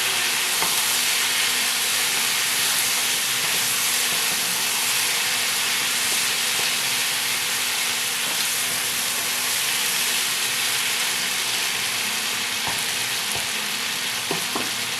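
Mixed vegetable curry cooked without water and stirred in a pan, heard as a continuous, even frying hiss with occasional soft scrapes and taps of the spatula.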